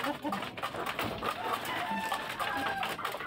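Farmyard chickens cluck and call amid a busy flock of pureline Dominant 102 and Dominant 109 birds, a dense overlapping chorus of clucks with occasional crowing, steady and fairly close throughout.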